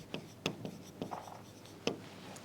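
A pen writes on paper in a quiet room for a primary math lesson, soft scratchy strokes with a few sharper taps as marks are made, close and faint.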